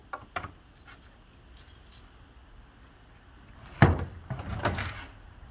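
Keys jangling and the small side compartment of an RV being unlocked and opened, light metallic jingles early, then a sharp clack and rattling latch sounds, close by and without talk.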